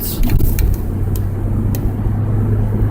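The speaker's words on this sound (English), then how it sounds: "now you get to see a lot of fast cars whizzing by me" Fast cars whizz past on a freeway, heard from inside a moving car with the window open as loud, steady road and wind rumble with a few brief passing swooshes.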